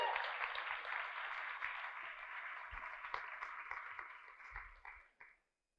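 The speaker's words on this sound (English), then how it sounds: "Can we have a round of applause for Liz and everyone involved?" Conference audience applauding after a keynote introduction, an even band of clapping that sounds somewhat distant and thin, holding for about five seconds before tapering off to silence, with a few low thumps along the way.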